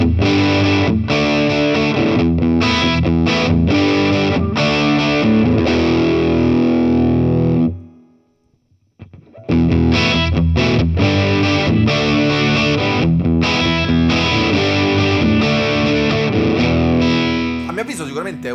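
Amplified electric guitar played through a Torpedo Reload II boost, a dense distorted riff of strummed chords that cuts out briefly near the middle and resumes, loud and alone.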